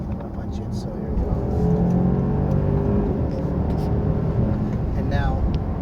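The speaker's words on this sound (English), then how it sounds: "I'm just going to accelerate right behind that taxi, and I'm going to punch it." A 2015 Mercedes-Benz S550 accelerates hard from cruising speed, its engine note climbing and swelling into a steady, powerful whir heard from inside the cabin, with a person talking over it.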